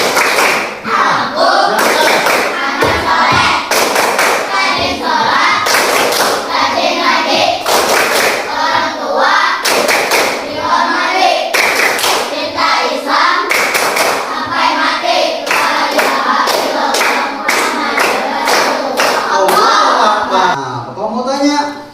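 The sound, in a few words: children doing the 'tepuk anak soleh' clapping chant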